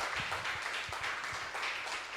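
Church congregation applauding during a prayer service, a brief burst of scattered hand clapping that continues steadily for a couple of seconds.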